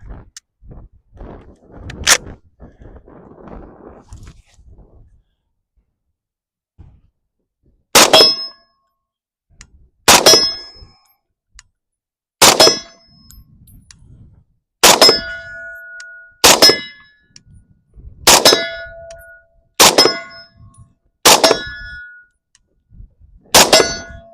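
Swedish AG-42B semi-automatic rifle firing at angled steel targets about 50 away: one early sharp clang, then a steady series of loud metallic pings ringing out every couple of seconds, each with a short bright decay.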